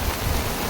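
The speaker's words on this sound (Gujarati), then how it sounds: "કંઈ દેખાતું નથી. માગર તો કાંઈ નથી દેખાતું એટલો વરસાદ વરે ભાઈ." Heavy monsoon rain pours steadily close to a hut, a dense unbroken hiss with no pauses or voices.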